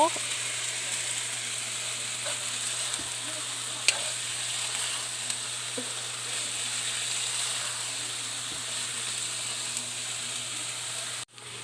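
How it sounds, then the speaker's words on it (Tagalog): Canned sardines being stirred in a hot frying pan with onions give a steady, close sizzle throughout, broken by occasional light clicks and scrapes of the stirring. "Ihalo natin ang ating sardinas. I-mix natin to."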